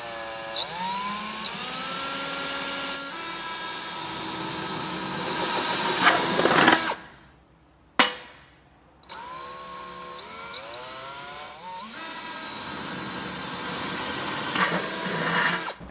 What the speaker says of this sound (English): using your drill, you want to make 2 holes directly across on the lid